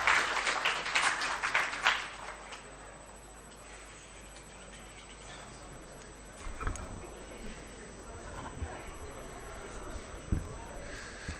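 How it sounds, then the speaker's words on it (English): Applause rises at an NDC public forum on the 2022 budget, a burst of clapping in a hall that fades after about two seconds, followed by quieter scattered sounds and knocks near the microphone. "With a round of applause, let's welcome Comrade Bernard Mona to the podium"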